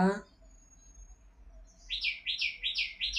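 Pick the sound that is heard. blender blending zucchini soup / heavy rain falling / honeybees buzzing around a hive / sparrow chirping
sparrow chirping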